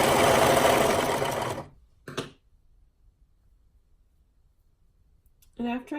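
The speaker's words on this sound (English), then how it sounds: "I'm just going to stitch the short ends together to create a loop." A sewing machine stitches the short ends of a neck binding together in a fast, close mechanical whir that lasts about a second and a half. Two short bursts follow after a pause, with only faint room noise around them.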